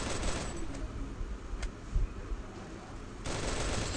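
Gunfire in the mobile battle game Free Fire during a 2v2 match: rapid bursts of shots with a brief lull in the middle, loud and close, no talking over it.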